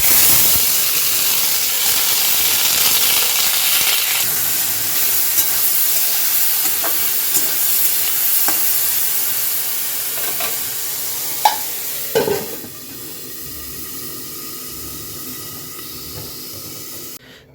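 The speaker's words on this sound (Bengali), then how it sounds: "এই যে এখন ফ্রাই করব অল্প হালকা তেলেতে" Peas frying in a little oil in a home kitchen, a steady close sizzle and hiss with occasional stirring clinks, fading near the end.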